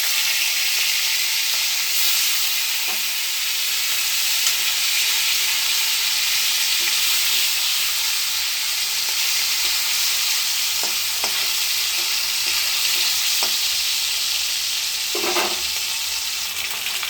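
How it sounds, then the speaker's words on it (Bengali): Fish frying in the oil of a wok previously used for potatoes, giving a steady, even sizzle that holds throughout, with a few faint scrapes and taps near the end; no one speaks. "আলু ভাজার কড়াইতে মাছটা ভেজে নিই।"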